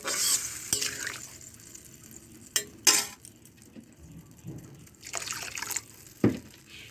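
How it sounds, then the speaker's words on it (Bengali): Water goes into a pan of fried potatoes for a fish curry, with splashing bursts, clinks of utensils against the pan and a few brief liquid pours spread over several seconds. "আলু ভাজা হয়ে গেছে, এবার পরিমাণ মতো জল দেব।"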